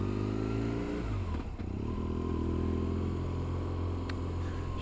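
A motorcycle on a Monday morning ride through East London accelerates hard in low gear, its close, loud engine climbing in pitch, dropping briefly at a gear change, then revving up again.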